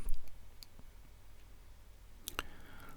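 Mouse clicks while setting up backup software on a computer: one sharp click early on and a tight pair of clicks near the end, close and fairly quiet over a low background hum.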